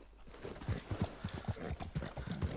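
Horse hooves clip-clop in rapid, regular galloping beats in the Western video game Red Dead Redemption 2, close and steady with a brief whinny-like tone mixed in.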